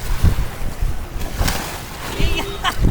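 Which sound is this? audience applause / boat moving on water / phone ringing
boat moving on water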